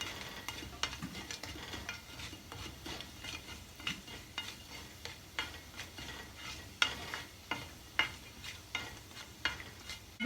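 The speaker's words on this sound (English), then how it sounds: "1 teaspoon of cumin seeds, and we'll fry it on the little bit on high flame." A teaspoon of cumin seeds fries on high flame in a pan for dhaba-style egg curry, giving a steady sizzle with sharp, regular utensil taps and stirring clicks throughout, close and moderately loud, with no talk.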